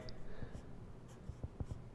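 Pencil scratching on toned paper while a small value chart of boxes is drawn, faint soft strokes with a few sharper taps near the end, behind quiet room tone.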